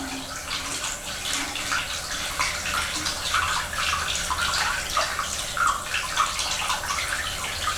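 Tap water runs continuously into a basin while a toothbrush is rinsed, a steady splashing rush with small gurgles and no speech.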